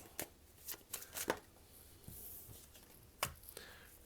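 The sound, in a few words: shuffling and drawing tarot cards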